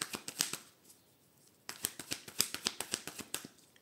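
A deck of tarot cards being cut and handled makes soft, close, crisp card flicks and riffling clicks, first a short cluster, then a pause, then a faster run of about a dozen snaps.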